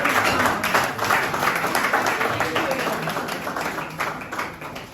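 An audience claps at a lecture event, a dense, steady patter of many hands that gradually fades over a few seconds, with no one speaking over it.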